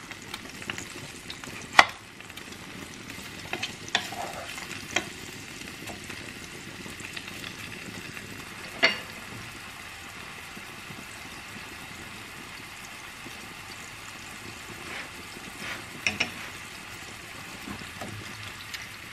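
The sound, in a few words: onion sizzling in a pan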